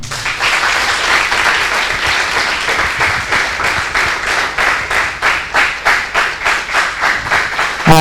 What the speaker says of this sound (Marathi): तर मंडळी, जोरदार टाळ्या होऊन जाऊ देत.